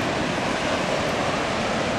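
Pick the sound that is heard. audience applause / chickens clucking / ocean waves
ocean waves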